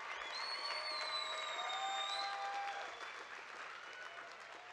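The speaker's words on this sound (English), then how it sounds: "So let's start applauding ourselves." Graduates at a college commencement ceremony applaud in a soft, distant wash of clapping. Thin whistles and cheers ride over it before it eases slightly toward the end.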